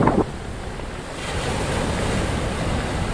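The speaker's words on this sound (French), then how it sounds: "J'adore la mer et c'est vrai que c'est très tentant d'aller se baigner" Sea waves wash onto the shore of a cove on a coastal hiking trail, a steady, broad rushing surf with wind noise buffeting the microphone, a short louder gust at the start, and no voices.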